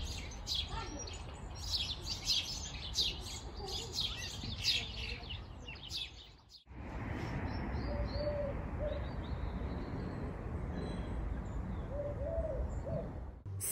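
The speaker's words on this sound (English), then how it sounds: "I can always hear a lot of birds chirping." Faint bird chirps and calls sound from a distance over steady outdoor noise, with a short dip midway before the background resumes.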